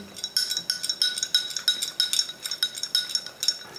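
A spoon stirs a drink of raw milk and reindeer blood in a glass, clinking rhythmically against the sides in quick, bright taps, close and fairly quiet.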